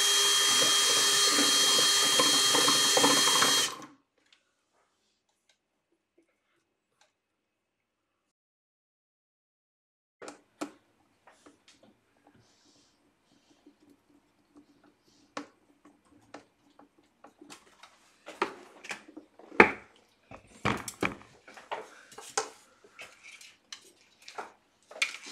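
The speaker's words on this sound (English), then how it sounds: "This is so I can cut the hole for the fan." A power drill whines loudly for a few seconds while boring into a box for a portable solar power build, then stops; after silence, scattered sharp taps and clicks of cutting a round fan hole follow.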